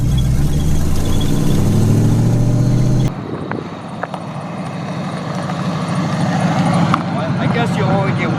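Engine revving and roar of an LS-swapped Chevrolet S10 Blazer launching on a pebbly surface, tires spinning and gravel scattering, loud and continuous with a sharp change partway through.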